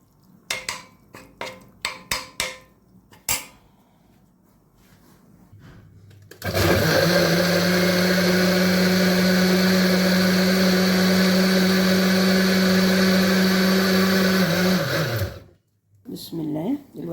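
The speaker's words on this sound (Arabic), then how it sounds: "دلوقتي انا ضربت الطماطم في الخلاط" After some clattering and knocks, a blender blending tomatoes roars to life and runs loud and steady for about nine seconds before spinning down, followed by more clinks.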